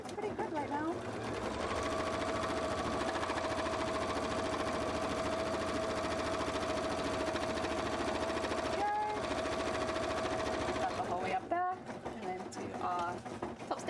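Sewing machine stitching trim onto a cosplay costume, a steady continuous mechanical whir running for most of the time, close and even, pausing briefly near the end.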